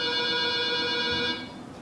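A telephone rings with a steady, bright electronic tone that holds for over a second and then cuts off, leaving a low background hum.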